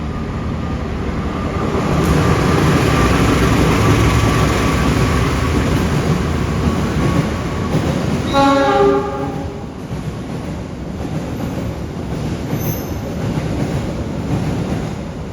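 A train at Cirebon railway station rumbles loudly and steadily, with a burst of horn-like harmonic tones near the middle before the rolling rail noise carries on.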